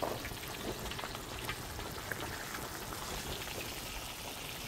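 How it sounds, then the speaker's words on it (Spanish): Tilapia fries in hot oil, a dense, continuous crackling sizzle heard close and loud throughout, with no voices over it. "Y la metemos a nuestro aceite."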